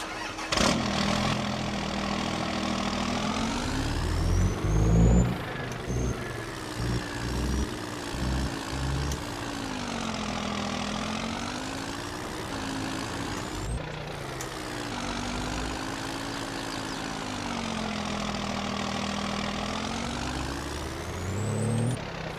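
Diesel truck engine in the Farming Simulator 22 video game, idling and revving with a steady rumble that swells and falls in repeated cycles, with hiss bursts like air brakes releasing, continuous and moderately loud.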